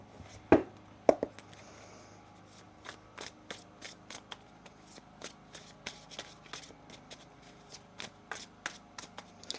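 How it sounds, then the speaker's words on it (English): A tarot card deck is shuffled by hand, giving a close run of crisp riffling taps and clicks, with a couple of louder slaps early on and then a steady patter of light card strikes. "One more shuffle here"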